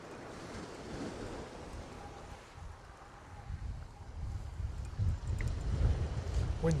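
Steady wind blowing at a seaside pier, buffeting the microphone with a low roar over the wash of waves, gradually building louder toward the end.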